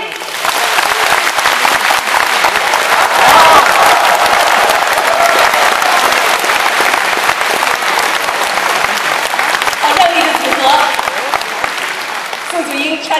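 Audience applause at a concert in Washington, a dense sustained clapping from a large crowd that holds loud and steady before thinning slightly near the end.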